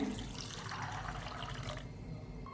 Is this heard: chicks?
no